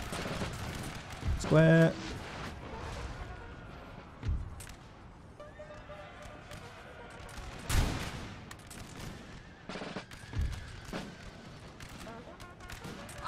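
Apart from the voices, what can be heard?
howitzer artillery fire in the video game Napoleon: Total War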